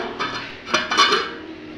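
A metal lid set onto a pot of Ayala mackerel fish curry on the stove, two or three close clinks and clatters of metal on metal in a brief burst.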